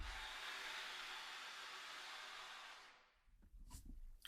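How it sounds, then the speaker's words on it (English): Breathy air noise from a brass and woodwind sample library, a steady broadband hiss that holds for about three seconds, then fades into softer, uneven puffs and breaths. "And then some air noises here as well."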